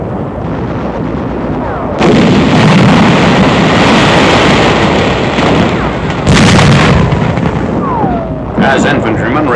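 Heavy gunfire and booming blasts from flame-throwing Amtraks in island combat near Bloody Nose Ridge, loud and sustained with bursts of sharper reports, under a narrator's voice.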